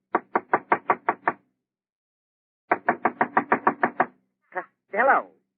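Sharp knocks rap on a door in a 1940s comedy radio show: a quick run of seven, a pause, then a longer run of about ten, close and loud, followed by a brief exclamation.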